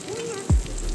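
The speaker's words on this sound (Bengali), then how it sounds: "এদিকে আমাদের আলু মোটামুটি লাল লাল ভাজা হয়ে" Potatoes frying in oil in a pan until reddish-brown, for a Bengali rohu fish curry with flat beans; a steady close sizzle with one brief stirring clatter partway through.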